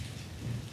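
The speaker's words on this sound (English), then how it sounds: "it's raining quite heavily" Heavy rain falling outside during a live-streamed reading in West London, a steady, dense hiss of drops that fills the clip with no voices over it.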